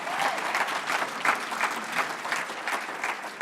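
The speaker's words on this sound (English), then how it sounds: "you can clap" An audience at a church-style gathering bursts into lively clapping, a dense, even patter of many hands with a few sharper individual claps standing out, continuing steadily for a few seconds.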